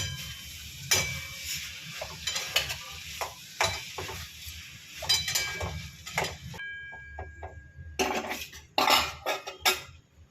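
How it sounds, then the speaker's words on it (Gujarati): Repeated scraping and clinking of two metal spoons tossing cold cooked rice in a pan, irregular strokes close by with a soft sizzle underneath. "આપણે આ રીતે 2 ચમચા લઈને હલાવી નાખવાનું છે"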